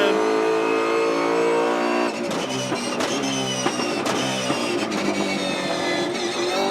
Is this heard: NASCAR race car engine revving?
yes